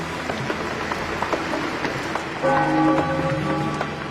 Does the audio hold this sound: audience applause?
no